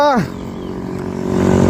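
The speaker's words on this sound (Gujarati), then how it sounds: "આ ધૂમ બાઈક આવી ધૂમ" A motorbike engine roars and builds louder as it approaches, following a brief voice at the very start.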